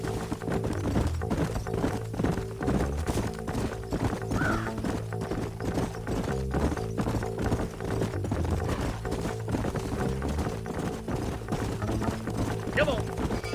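Horse hooves clip-clop steadily in Red Dead Redemption, a rhythmic trotting beat running under game music and occasional voices, with a brief whinny near the end.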